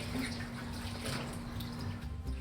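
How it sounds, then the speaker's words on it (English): A cactus is washed with soap and water, giving a soft, continuous splash and trickle with faint low rumbling, all at a low level. "Catalina washes the cactus with soap and water."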